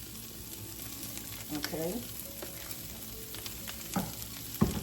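Olive oil sizzles steadily in a hot pan while eggroll-style ingredients cook, with a few brief clinks and scrapes; a voice speaks briefly over the frying.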